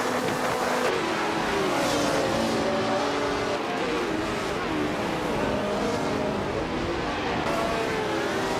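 Several race cars, among them a 1967 Brabham BT24, roar past together in a steady, loud blur of engine noise with faint tire squeal and no voices.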